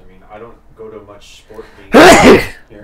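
One loud, sharp sneeze bursts out right after a man's speech during a hockey radio broadcast Q&A, standing well above the talking voices.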